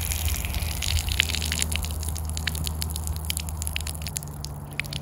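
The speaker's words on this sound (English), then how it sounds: "And we're getting all the water out of our hose." Pressurized water gushes and sputters steadily out of a garden hose as it is drained, a continuous close hiss with irregular splashy spurts and no talking.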